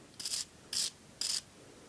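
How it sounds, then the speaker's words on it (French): A wire brush rasps over the metal tip of a motorcycle spark plug in three short, bright scrapes at an even rhythm, close and crisp against a quiet background. "nous allons passer la brosse métallique sur le petit bout de fer qui dépasse"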